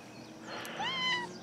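A house cat gives one drawn-out meow with a rising then falling pitch, close and clear over a quiet indoor background.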